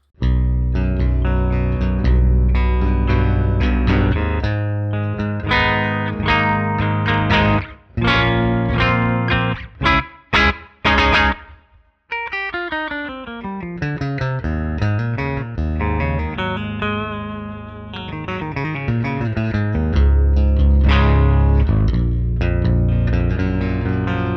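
An electric guitar with a Corrigan HiFi XL pickup and overdrive switched off plays a mostly clean, chorused tone with strummed chords and picked runs, loud and continuous, with a few brief pauses midway.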